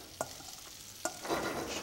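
Lime marinade being stirred for red snapper ceviche, two crisp utensil clicks against a bowl followed by soft wet swishing of liquid, close and fairly quiet with no talking.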